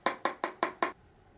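A makeup brush loaded with setting powder is tapped five times in quick, even succession against a hard edge, producing crisp close knocks, then quiet.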